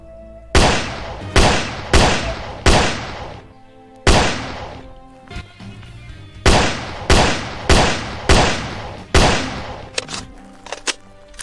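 Gunshots in the video game Animallica: loud, sharp single shots in spaced groups of three or four, each with a short ringing decay, no talking.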